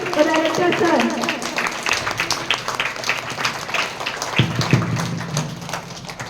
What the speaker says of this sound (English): give a big round of applause for Akhilesh, the director sir